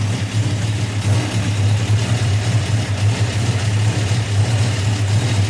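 A slant six engine with a big cam idles roughly, giving a steady, loud, low rumble with an uneven pulse throughout and no voices.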